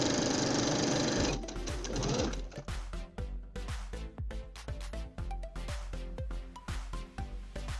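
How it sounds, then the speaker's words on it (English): A sewing machine stitches dress ruffle pieces, starting with a steady whirring run, then breaking into short stop-start bursts with clicking stitches, close and moderately loud with no talking. "Here I'm sewing close each ruffle piece."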